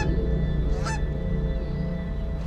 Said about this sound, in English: Hey, that is a lot of geese.